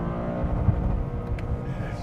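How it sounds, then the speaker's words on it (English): Toyota GR Corolla (2025, automatic) engine held at the rev limiter, a dense, steady low rumble with small stutters rather than clean sweeps, close and loud throughout with no talk. "Bounce it off the limiter and then bog hard."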